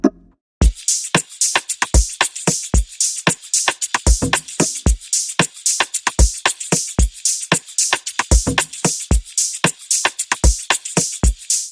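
An Amapiano percussion pattern from a beat programmed in FL Studio plays as a dense, rapid run of crisp, bright hits in a syncopated groove, loud and dry with no voices.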